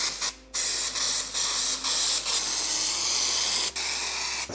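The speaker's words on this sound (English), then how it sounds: "we're gonna go ahead and give this a coat of scanning spray" Bursts of aerosol dry shampoo spray hiss steadily up close, broken by several short pauses, with no voices.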